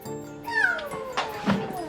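A rescued cat meows several times at close range. The calls are clear and drawn out, with a rising, wavering pitch, and no other sound competes with them.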